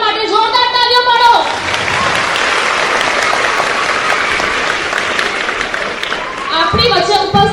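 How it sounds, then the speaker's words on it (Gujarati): Loud applause from an audience at a Gujarati public event welcoming legislator Balubhai Shukla, a dense burst of clapping that fills the middle of the clip, with a speaker's amplified voice before and after it. "એમના માટે જોરદાર તાળીઓ પાડો."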